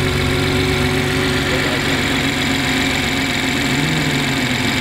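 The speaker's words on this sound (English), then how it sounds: "I'll start it with a stock exhaust" A BMW E92 with its stock exhaust idles close by, giving a steady, continuous engine drone with a low rumble that holds even throughout.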